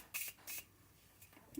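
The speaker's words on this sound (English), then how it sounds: "So next we are going to be reviewing the setting spray." Morphe makeup setting spray misted in two short quick bursts, followed by fainter softer puffs, close and quiet with no talking.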